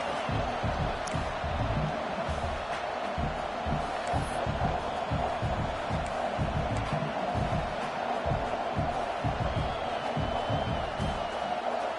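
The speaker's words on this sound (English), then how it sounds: "This crowd trying to do its part to get inside the kicker's head." A football stadium crowd cheering and roaring during a field goal try, a dense continuous wall of distant voices that holds steady throughout with no clear speech on top.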